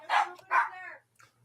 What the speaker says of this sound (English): Oh, and there's the dog.